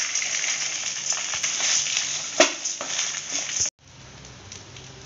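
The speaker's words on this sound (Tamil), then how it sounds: "மல்லாட்டையும் நல்லா வதக்கிக்கலாம்." Peanuts sauté in a pan with tamarind and garlic for chutney, giving a steady bright sizzle with occasional stirring knocks that cuts off abruptly, leaving a quieter hiss, close by and with no talking.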